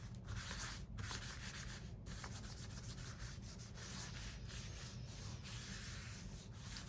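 Paper being trimmed from a junk mail envelope, a steady close rubbing and scraping texture with a few sharper cutting strokes, fairly quiet and continuous with no talking.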